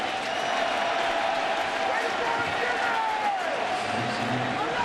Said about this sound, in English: And the crowd responds, remembering well what happened in the 9th inning last night.